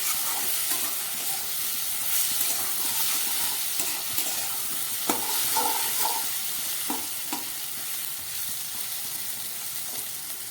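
Okra fries with spices in a pan over high gas flame, a steady loud sizzle running throughout while a spatula stirs and scrapes in repeated clinks and knocks, no voices.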